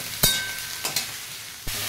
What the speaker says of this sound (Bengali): কেটে রাখা ভেন্ডি আর টমেটোর টুকরোগুলো দিয়ে দেব। এরপর এটাকে আমি একটু ভেজে নেব